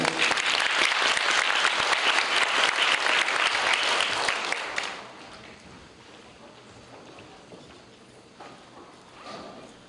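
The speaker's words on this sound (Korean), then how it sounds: "여러분 큰 박수로 맞이해 주십시오." An audience applauds loudly to welcome the head judge at a debate competition final; steady clapping fills the hall for about five seconds, then fades to quiet room tone.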